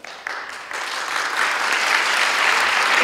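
A crowd applauds at a Lunenburg special town meeting, steady clapping that swells and grows louder over a few seconds.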